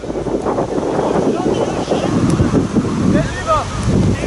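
Strong outdoor wind buffets the microphone steadily, a loud continuous roar with gusts running through it while people talk in French.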